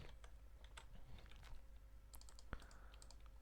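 A password typed on a computer keyboard, a quiet run of rapid, uneven key taps with one sharper click near the end and no talking.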